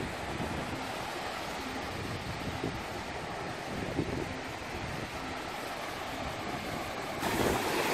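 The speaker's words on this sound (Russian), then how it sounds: "Здесь вот такие классные, просто замечательные волны." Steady roar of sea waves washing onto a Baltic beach at Palanga, Lithuania, with heavy wind buffeting the microphone throughout and no voices.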